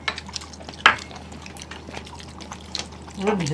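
A liquid Bengali dish is poured from a bowl onto a plate, with soft splashing and trickling heard near the microphone and a voice talking over it.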